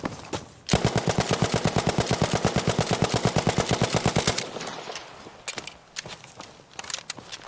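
Hip-fired weapon in Battlefield V unleashing a long, fast automatic volley of crisp, loud shots in a tight even rhythm, then breaking off into scattered single cracks and thuds amid game ambience.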